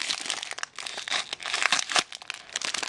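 A tiny slip joint knife slicing through paper, a close, continuous crisp crinkling and tearing with quick uneven scrapes and no talking.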